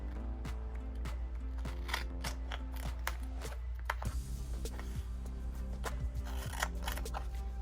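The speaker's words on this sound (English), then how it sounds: "I'm gonna take my scissors and cut out just where the paper is" Repeated sharp snips of scissors cutting out a shape from paper for die cutting, close by, in an irregular rhythm over a steady low hum, with no one speaking.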